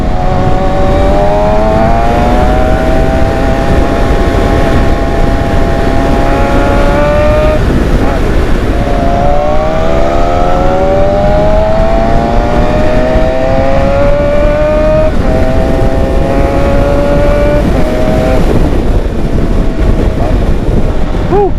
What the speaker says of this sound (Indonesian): Sudah lama tidak dengar naungan knalpot motor sport.